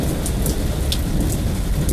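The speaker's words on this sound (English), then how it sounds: "I love the sights, the sounds, the smells that come with these summer storms, spring summer storms." A spring-summer thunderstorm pours steady heavy rain with a low rumbling undertone of thunder, loud and continuous throughout, with no voices.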